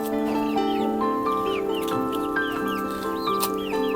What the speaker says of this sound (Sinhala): මේ ඉන්නේ කුකුල් පැටියෙක්.